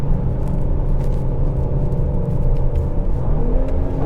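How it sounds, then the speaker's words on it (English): The engine of a 2022 Ford Explorer ST drones steadily and loudly from inside the cabin, a low, even rumble with a slight rise in pitch near the end and no talking. "You see it had like a little bark from the exhaust."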